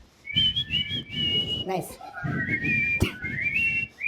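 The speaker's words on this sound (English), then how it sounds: "Never have I lip synced a whistle." A tuneful whistled melody from a Bollywood song carries on steadily across the clip, loud and close over a rhythmic backing track, while someone briefly says a word.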